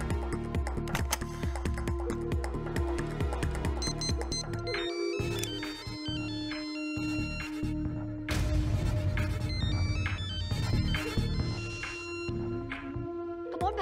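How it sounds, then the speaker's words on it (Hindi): A phone rings repeatedly with a bright, melodic ringtone that loops on and on, loud and close, with no talk over it. "आप फोन क्यों नहीं उठा रहे?"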